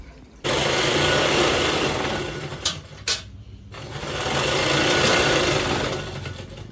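A sewing machine runs fast and steady stitching a crosswise seam through an old quilt under a new saree cover, whirring continuously with a brief stop midway before resuming, close and loud.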